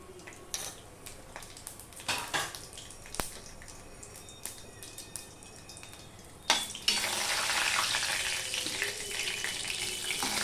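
A bay leaf and panch phoron, with chilli, drop into hot oil for a vegetarian fig curry. After a few quiet clinks of utensils, a sudden loud, steady sizzle erupts and continues.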